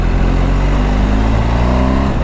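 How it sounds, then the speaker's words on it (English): A 2024 BMW 1250GSA motorcycle with a boxer engine, idling and revving with a deep, steady, close drone. "I love the sound of a boxer engine"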